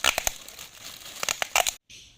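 Quick bursts of packing tape ripping and pulling tight around a plastic-wrapped parcel of seedlings, several short sharp tears close up, a brief silence, then a softer hiss.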